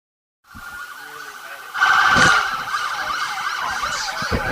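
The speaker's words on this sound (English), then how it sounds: "You hear the sirens." Sirens wail loudly and nearby at a high school football game in Lebanon, Tennessee, rising and falling in pitch, swelling briefly louder midway, with busy background noise underneath.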